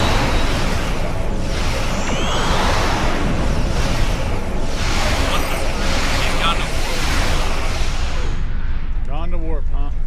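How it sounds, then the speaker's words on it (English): Starship weapons fire in the Star Trek Online space combat game, a dense continuous barrage of booming blasts and whooshing beams that stays loud the whole way through, with a voice heard briefly underneath. "Computer, arm all weapons and fire!"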